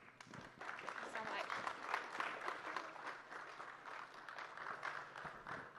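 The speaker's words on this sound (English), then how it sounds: "Give them a round of applause" An audience in Bangkok claps for the conference speakers, a faint, even wash of applause that holds through the whole stretch.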